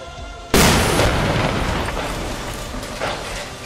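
A 120 mm artillery shell explodes during street fighting in Jobar, Syria, with one sudden, heavy boom followed by a long rumbling decay and faint echoing tail.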